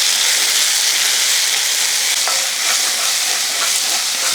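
Curry leaves and ginger-garlic paste sizzle in hot oil for an egg curry, a continuous loud hiss with a few soft scraping strokes of a spoon stirring through the pan.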